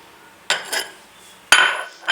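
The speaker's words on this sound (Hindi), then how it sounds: "अंडे को हम मिक्स करेंगे।" Egg being mixed into pakora batter in a bowl, heard as two separate clinking, scraping bursts of a utensil against the bowl with quiet pauses between.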